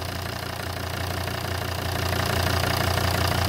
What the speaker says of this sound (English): I'm going to turn the engine off